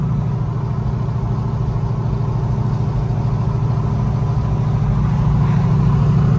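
A Chevy Tahoe truck with a low-budget turbo setup drives along, its engine humming steadily with a deep, even drone and pulsing rumble, heard from inside the cab with no talking.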